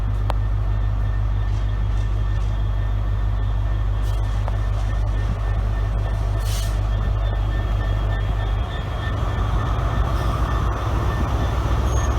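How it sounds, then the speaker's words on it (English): East Coast passenger train at Doncaster Station, departing for Edinburgh, rumbles with a steady low engine drone and wheel noise that stays loud throughout, with a shift in the rumble near the end as it pulls away. "This East Coast leaving for Edinburgh from 11:08."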